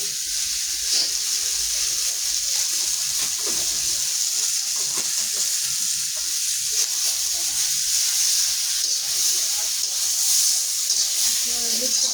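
Whole spices sizzling in hot oil for chalta (elephant apple) pickle, a constant loud hissing fry throughout with no clear talk.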